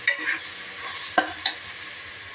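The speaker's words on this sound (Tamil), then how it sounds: "இஞ்சி பூண்டு நல்லா வாசனை வர வரைக்கும் நல்லா வதக்கிக்கணும்." Ginger-garlic paste stirred in hot ghee and oil in a pan for vegetable rice: a soft, steady sizzle with a few sharp clinks of a spoon against the pan, close and fairly quiet.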